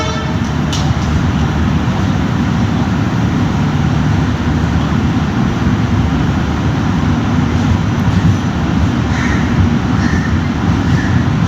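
A steady, loud rumble of the 12164 superfast express train running from Chennai Central to Mumbai LTT, continuous low roar with rattling over the whole stretch, no voices.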